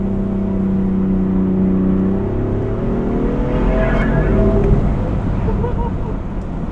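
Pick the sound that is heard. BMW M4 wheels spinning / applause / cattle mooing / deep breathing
BMW M4 wheels spinning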